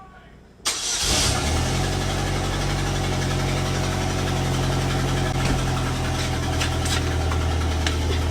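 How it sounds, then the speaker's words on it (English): A car engine with a cracked cylinder head cranks and catches after a brief silence, then settles into a loud, steady idle with a rough, uneven knocking running throughout. "This is me starting my vehicle with no acceleration."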